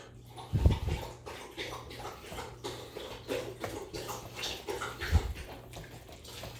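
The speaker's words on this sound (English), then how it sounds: "We're going to whisk that." Cinnamon roll dough mixture whisked in a bowl, giving irregular wet swishing and sloshing with a couple of heavier thuds against the side.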